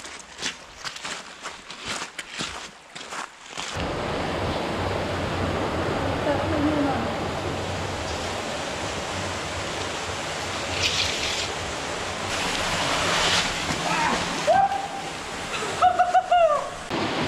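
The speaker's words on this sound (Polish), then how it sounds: "Tu jest taki wodospad." Rushing water of a waterfall in a desert canyon, a steady broadband roar that stays loud and close throughout, with a few footsteps and scuffs at the start and brief voices near the end.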